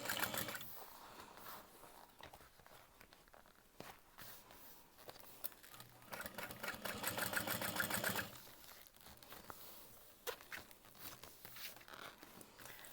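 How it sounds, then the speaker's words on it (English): Sewing machine top stitching through several layers of fabric and lining, a quiet rapid mechanical whirr in short bursts with one longer run, mixed with small handling clicks and rustles. "flip this down and top stitch through all of those layers"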